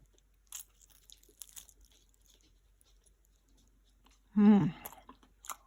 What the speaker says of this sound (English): And here comes the big bite.